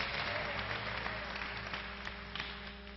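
A church congregation gives a brief burst of applause, a dense, steady clapping from a crowd that fades slightly toward the end, heard at a distance.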